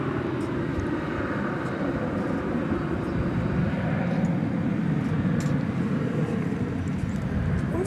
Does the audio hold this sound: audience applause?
no